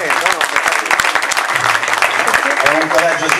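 Audience applause for a guest speaker at a conference on the European Union, a loud, dense, steady patter of clapping throughout, with a voice talking over it.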